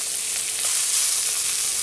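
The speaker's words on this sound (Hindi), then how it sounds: "प्याज को हमें बहुत ज़्यादा फ्राई नहीं करना है, तो अब हम इसमें डालेंगे लहसुन और हरी मिर्च जिसे हमने क्रश कर लिया है" Onions fry in a pan with crushed garlic and green chili for a masala dosa filling, giving a steady, bright, close sizzle with no gaps.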